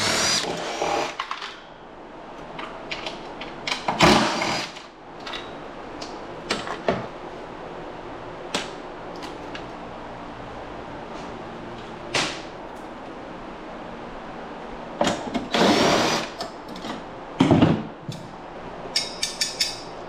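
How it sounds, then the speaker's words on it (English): Nuts and bolts come off a dental X-ray machine built with extruded aluminum, making scattered close clicks, metallic clanks and short tool bursts between stretches of quiet handling. "I guess we could just start removing nuts and bolts."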